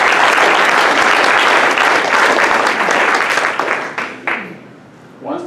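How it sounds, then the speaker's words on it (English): Audience applause for Jeff Rieger at an LSST project and community workshop: a full, dense burst of clapping from a sizeable crowd that thins toward the end into a few scattered claps. "So a round of applause for Jeff"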